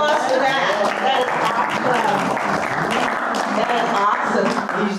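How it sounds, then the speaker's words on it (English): Audience applause fills a house concert, steady dense clapping from a small crowd lasting throughout, loud and close, with voices mixed in beneath. "everyone applause for that"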